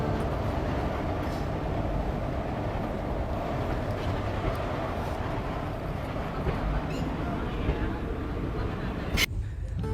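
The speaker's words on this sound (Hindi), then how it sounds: "ट्रेन की रफ्तार बस 30 किलोमीटर पर आवर की ही रहती है" A passenger train on the Ait–Konch railway line rolling at low speed, a steady, loud rumble of wheels and carriage noise throughout, with a faint voice mixed in at times.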